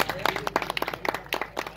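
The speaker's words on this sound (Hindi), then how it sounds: "तो तालियों की आवाज आनी चाहिए" Scattered audience clapping at a news channel opening event, rapid irregular claps from a small crowd, fairly faint and close, with voices talking over it.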